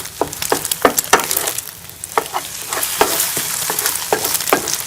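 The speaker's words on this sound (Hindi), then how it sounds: "तरह से हम इसे हिला कर अंडे की साइड को चेंज कर लेंगे और इस तरह से इसके पीसेस बना लेंगे छोटे छोटे से" Eggs sizzle in a pan while a utensil scrapes and stirs them into small pieces, bringing repeated sharp clacks and scrapes over a steady frying hiss.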